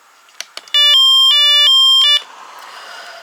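A weather radio sounds its siren test: a loud, piercing electronic tone alternating between two pitches for about one and a half seconds, preceded by a couple of clicks and followed by a faint hiss.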